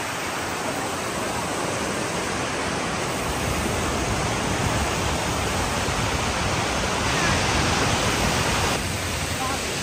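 A waterfall and river at a crossing on an adventure trail in Bongabon, Nueva Ecija, produce a dense, continuous rushing roar of water that stays loud and even throughout.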